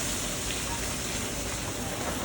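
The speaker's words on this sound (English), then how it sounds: "I'm gonna baste the fish with that butter" Butter sizzles and foams in a pan while skate fish is basted, giving a continuous, close, crackling hiss with no breaks.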